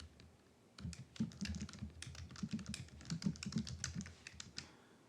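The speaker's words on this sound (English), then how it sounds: "And we're going to type in" Quick bursts of clicking keystrokes on a computer keyboard, close and fairly quiet, typed in short irregular runs with brief pauses between them, and no voices.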